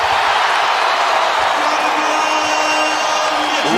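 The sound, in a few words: basketball arena crowd cheering after a dunk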